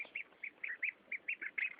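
Repeated duckling quacks, about ten short nasal calls in a steady rhythm, fairly close and moderately loud over a soft background murmur, as they are fed fish.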